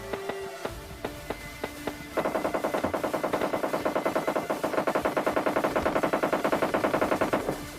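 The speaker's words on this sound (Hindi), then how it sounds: "भाई सामने फायरिंग की आवाज़ आ रही थी" Gunfire in the mobile battle-royale game PUBG Mobile Lite: a few scattered single shots, then a long run of rapid automatic bursts with a steady, dense rhythm that stays fairly loud until the end, with no talking.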